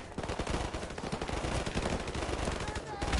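Dense, rapid bursts of automatic gunfire in Call of Duty: Modern Warfare Remastered fill the whole stretch, loud and continuous with sharp repeated cracks.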